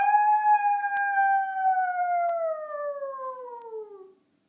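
A dog howls in one long, clear, drawn-out note that slowly falls in pitch and fades to silence, close by and alone, with no talk.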